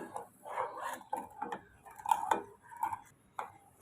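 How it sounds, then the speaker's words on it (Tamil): A spoon scrapes and clinks against a pot of rabri for rasmalai in short, irregular strokes, quiet and close, with brief pauses between movements. "கலந்து விட்டுக்கலாம்"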